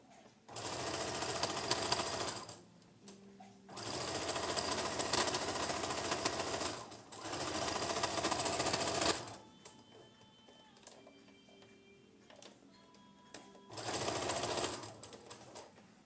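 A sewing machine stitches a patchwork quilt block in four loud, steady bursts of a few seconds each, separated by quieter pauses with faint handling sounds, close up and without speech.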